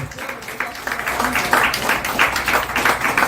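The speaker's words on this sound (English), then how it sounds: "A round of applause for Jeremy for getting up early and being here" An audience at a music-industry talk applauds with a mix of scattered and overlapping claps of moderate loudness that rise and fall, with voices in the room underneath.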